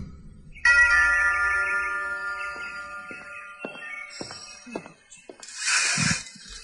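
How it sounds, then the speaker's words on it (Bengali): A clear electronic chime rings out in several sustained tones, followed by a few sharp knocks and a brief rustle of noise near the end. "লাস্টিক উঠে গিয়ে আবার কলিং বেল টিপল"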